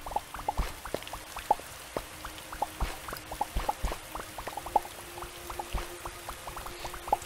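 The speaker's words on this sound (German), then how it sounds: "hier ist bloß Wasser" Water sloshing and dripping in the Starbound video game, a run of small plopping splashes and pours in a steady irregular patter, fairly close and moderately loud, with a faint low hum underneath.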